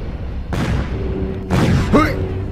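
Floating artillery firing in the War of the Worlds survival video game: two heavy booming blasts about a second apart, the second followed by a sharp rising whine, over a steady rumbling game background.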